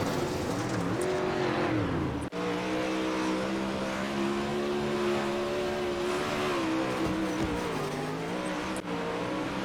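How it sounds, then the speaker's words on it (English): A 360 sprint car at Williams Grove Speedway in iRacing, riding the wall on dirt with a loud, sustained engine roar that wavers in pitch, broken by a couple of sharp brief dropouts. "Just a sprint car wall riding."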